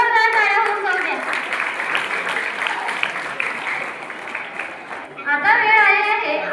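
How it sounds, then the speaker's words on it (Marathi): An audience claps steadily in a sustained round of applause at a school Marathi Language Pride Day event in a hall, dense and fairly loud, with a voice speaking at the start and again at the end. "एकदा जोरदार टाळ्या होऊन जाऊ द्या."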